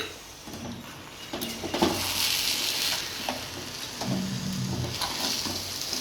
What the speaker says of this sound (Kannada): ಎರಡು ಕಪ್ ಸಕ್ಕರೆ ಈಗ ತಿರುಗಿಸ್ಕೊಳ್ಳಿ